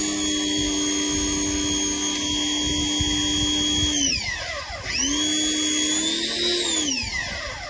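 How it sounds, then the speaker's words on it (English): A pressure washer runs loud and close, its motor whining steadily with a high tonal drone that dips and swoops as the load changes partway through. "the pressure washer, now this is legitimate"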